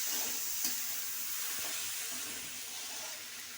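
Rice being stirred in a pan while cooking Bengali basanti polao, a soft continuous sizzle with faint scraping touches, fairly quiet and with no talk.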